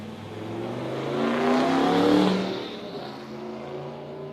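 Drag race at Warwick Dragway between a Mustang and a one-tonner, engines swelling to a loud roar that peaks mid-run then fades as the cars pull away down the strip.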